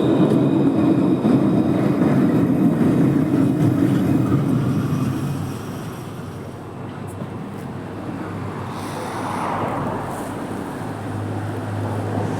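A Montpellier Line 1 tram pulls into Port Marianne station, its broad rolling rumble loud and close for the first few seconds, then easing into a softer hum of wheels and street traffic.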